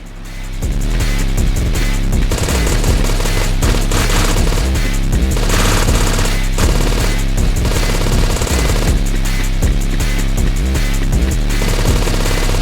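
Gunfire blasts without pause in the boomer shooter game Withdrawal, a loud, dense machine-gun stream of rapid shots over a heavy low rumble, kept up for the whole stretch.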